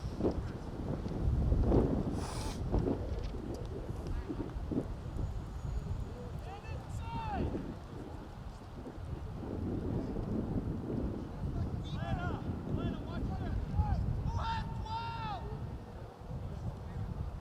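Chilly October wind buffets an outdoor microphone at a boys' high school soccer game, a steady low rumble running under the whole stretch while voices talk and call out over it.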